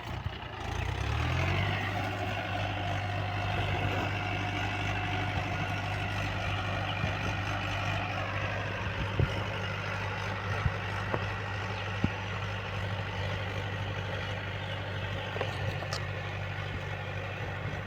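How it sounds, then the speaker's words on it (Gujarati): A tractor engine idles nearby in a farm field at cotton sowing time, giving a steady low rumble that holds unbroken, with a few faint clicks and knocks over the drone. "ટ્રેક્ટર ચાલેલું છે"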